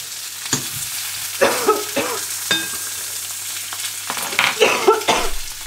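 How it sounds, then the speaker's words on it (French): Frozen quenelles grilling in a home frying pan, a steady close sizzle broken by several sharper crackles and utensil scrapes, with no one speaking. "je fais des quenelles grillées à la poêle"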